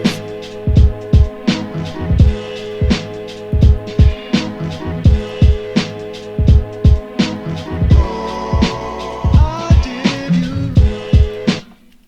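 A boom bap drum loop made in FL Studio, with punchy kicks and snares in a steady head-nodding rhythm over a layered sampled melody, loud and upfront.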